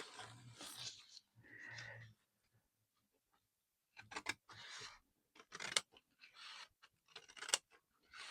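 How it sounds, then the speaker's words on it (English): Scissors cutting through a Christmas card, close crisp snipping and crunching strokes in several short bursts separated by quiet pauses. "So I'm going to cut this one."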